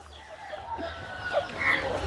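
A young chicken, about a year old, kept in a basket cage on a farm near Machilipatnam, gives faint, scattered clucks over a low steady background hum.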